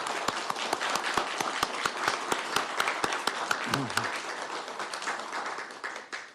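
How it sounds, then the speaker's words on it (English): Applause at a town council meeting, a room full of people clapping steadily with a few sharp, distinct claps standing out. It fades slightly toward the end, and a brief voice cuts through the middle. "I think you deserve a great round of applause"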